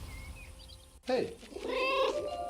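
A cat meows in the World War I video game 11-11 Memories Retold, with a short cry followed by a longer, drawn-out meow, close and clear over a faint background bed.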